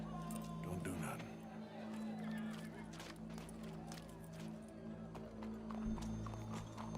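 Horse hooves clip-clop steadily in the Red Dead Redemption 2 video game, moderately close, beneath a continuous low hum and ambient crowd murmur.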